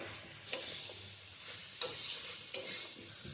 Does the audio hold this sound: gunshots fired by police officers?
no